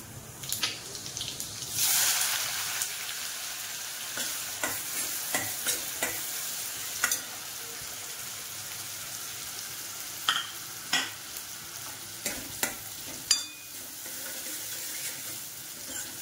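Cumin and onion frying in a pan for pav bhaji, a soft sizzle running throughout with a louder burst early on and repeated scraping clinks of a spoon stirring against the pan.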